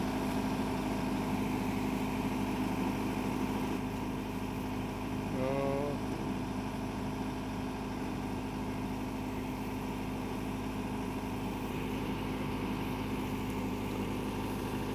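A tractor stuck in mud runs steadily at a low idle-like drone, unchanging and fairly close for the whole stretch, with no voices.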